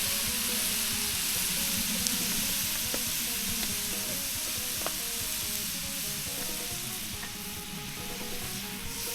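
Spicy stir-fried eel sizzles steadily in a hot pan while being stirred, with scattered clinks and scrapes of the utensil over the continuous frying hiss, close and fairly loud.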